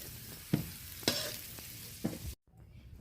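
Whole spices, slit green chillies, onion and tomato hit hot oil for tempering, giving a sizzling hiss with a few sharp stirring knocks, then cutting off abruptly near the end before one last clack.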